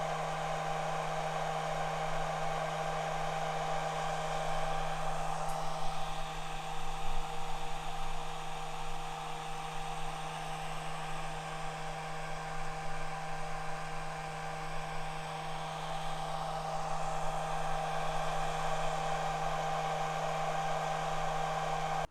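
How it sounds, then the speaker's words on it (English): A small gaming PC's power supply fan runs at idle with a constant, even whir and a steady low hum underneath, filling the whole stretch without change and without any voices. "You were listening to the power supply fan."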